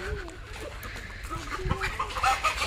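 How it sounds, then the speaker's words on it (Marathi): Free-range village hens cluck and murmur softly in a coop, a steady scatter of short calls with a busy farmyard background. "आणि मम्मीच्या अशा गावठी कोंबड्या आहेत"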